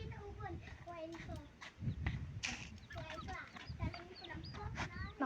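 Young nestling birds taken from a nest chirp and cheep in rapid, overlapping calls, close by, while children talk and move around them.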